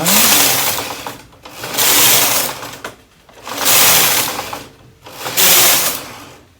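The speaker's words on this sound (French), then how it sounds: "Je repositionne mon chariot à tricoter de la machine sur l'extension et je reprends mon chariot dentelle et je continue" Lace carriage of a Brother KH930/KH940 knitting machine sliding across the needle bed in four loud, close passes, each a whirring, rattling rush with brief pauses between strokes.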